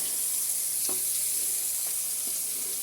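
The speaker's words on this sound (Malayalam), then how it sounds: "ഏ കുഞ്ഞി ചട്ടിയിലാണ് പൊരിക്കുന്നത്" Faint, steady sizzling of oil frying in a small pan, with a few soft clinks or stirring taps scattered through; no talking.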